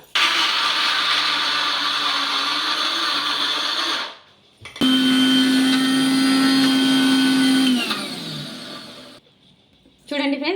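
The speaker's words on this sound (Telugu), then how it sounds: "ఇప్పుడు మిక్సీ జార్లోకి వేసుకొని మనం మిక్సీ మెత్తగా పట్టేసుకోవాలన్నమాట" A kitchen mixer grinder blitzes fresh coconut in two long, loud motor runs with a short pause between, its high whine steady throughout before each cut-off.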